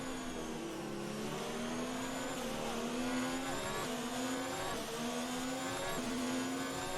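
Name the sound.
Formula 1 car engine revving in F1 2019 video game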